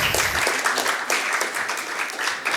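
Brisk, loud applause from a conference audience at a real estate funds panel on tokenisation, dense clapping close by with a slightly pulsing rhythm throughout the short burst.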